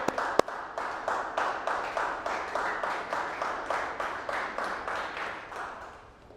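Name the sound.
high school class clapping for a student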